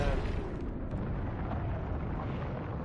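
Low, steady rumbling roar of a large explosion destroying Tilted Towers in Fortnite, a continuous dull boom that stays even and fairly quiet, heard from a distance.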